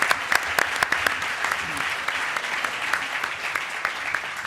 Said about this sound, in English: Round of applause for Adam and Lucid.